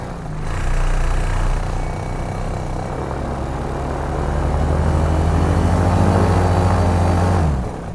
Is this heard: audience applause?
no